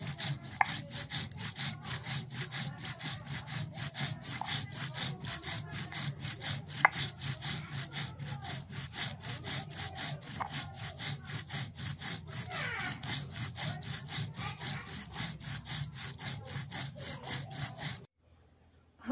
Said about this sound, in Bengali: জিরাটা বাইটে নিই